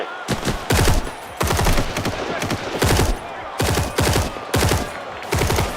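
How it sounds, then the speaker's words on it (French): Bursts of rapid automatic gunfire from the film Operation Manila repeat in quick succession, loud and close, with short pauses between volleys. "Les premiers coups de feu sont tirés"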